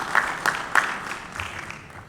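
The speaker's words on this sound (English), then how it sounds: "So we can give him a round of applause." Brief, thin applause at a college football conference media day podium, a few distinct claps early on that quickly taper into scattered, fading patters.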